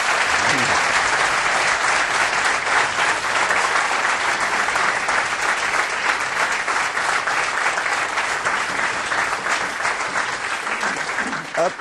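A studio audience claps hard for Imran Khan, the former Pakistan cricket captain, in a long, dense, even burst of applause that stays loud throughout and tapers only slightly at the end.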